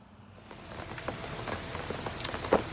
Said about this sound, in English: it is a rainy day, rainy Thursday at Chickasaw State Park